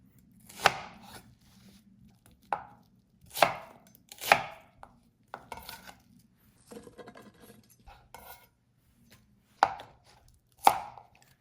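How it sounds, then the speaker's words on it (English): A sharpened knife cuts spring onions into small chunks on a board, about eight sharp separate chops at irregular spacing with quiet pauses between, close and alone. "Cut 2 spring onions into small chunks."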